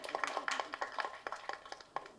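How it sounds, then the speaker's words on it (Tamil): Audience at a Tamil film press meet applauding after being prompted: a short burst of scattered, fairly sparse hand claps in a room, moderately close, with no talking. "கைதட்டுங்க."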